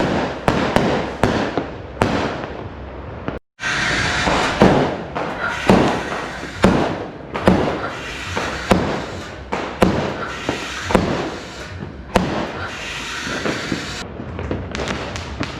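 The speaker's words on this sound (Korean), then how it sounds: "밖에서 폭죽 터지는 소리가 계속해서 들려옵니다" Fireworks and firecrackers crackle and bang repeatedly outside a house in the Philippines at night, some blasts close and sharp, others overlapping in dense bursts, with one brief silent gap.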